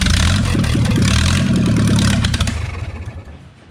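A Ford industrial engine fires up and runs with a loud, rough, clattering chug, then sputters and dies away over its last second.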